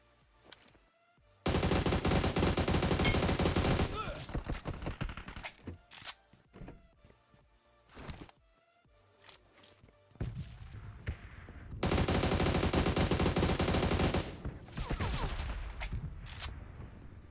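Gunfire in the BGMI/PUBG video game, with long sustained loud bursts of automatic fire separated by scattered single shots and quieter gaps, all in-game with no voices.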